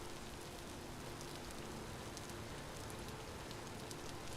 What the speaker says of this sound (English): Damn rain.